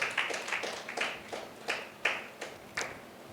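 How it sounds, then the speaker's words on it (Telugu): A church congregation at a special fasting prayer meeting claps hands in a steady rhythm, about a dozen sharp, evenly spaced claps at moderate distance with no talk over them. "సార్ చప్పట్లు కొట్టి దేవుని మనం మహిమపరుద్దాం అందరం గట్టిగా"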